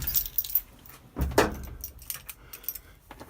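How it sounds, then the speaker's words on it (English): A key going into the ignition of a Land Rover 109 Series 3, heard as close metallic jangling and clicking with a brief louder clatter partway through, no talking. "Key in, ignition on."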